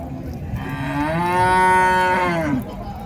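Cattle at the Matrapalli native cow market give one long, loud, drawn-out moo that swells and then fades. It sounds close and stands alone over faint background market noise.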